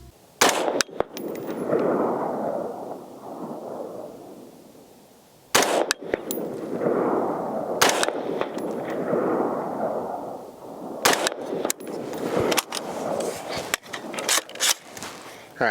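Rifle shots ring out one at a time with long pauses between them, sharp loud cracks over steady outdoor background noise. The rifle is a ZEV Core Combat Rifle on a tripod, fired at a target 50 yards away.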